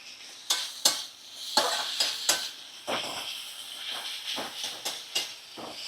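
Chopped tomatoes cooking in a pan over a medium flame for a bhola fish curry, with soft sizzling and a series of rhythmic scraping stirs, close and moderately quiet.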